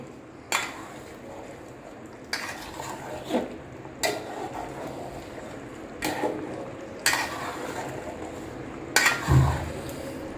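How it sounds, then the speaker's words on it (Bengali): A spoon stirs and scrapes goat meat and potatoes in a cooking pot, with six or so metallic clanks and scrapes at irregular intervals over a steady low cooking hiss, close by and without talk. "এই যে খাসির মাংস রান্না করতেছি আলু দিয়া কষায় নিতেছি ভালো করে একদম"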